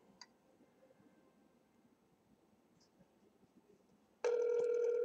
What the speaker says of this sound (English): So we're gonna make a quick phone call here so you can hear it